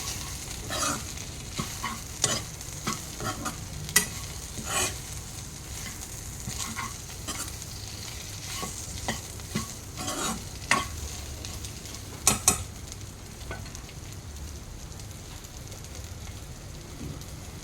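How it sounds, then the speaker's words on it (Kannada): Fried okra being stirred in a sizzling pan: a steady frying hiss carries throughout, broken by scattered scrapes and clicks of the spoon against the pan, with no talking. "ನಾವು ಆಲ್ರೆಡಿ ಫ್ರೈ ಮಾಡಿಟ್ಕೊಂಡಂತಹ ಬೆಂಡೆಕಾಯಿಯನ್ನು ಆ್ಯಡ್ ಮಾಡಬೇಕು. ಚೆನ್ನಾಗಿ ಮಿಕ್ಸ್ ಮಾಡಿ"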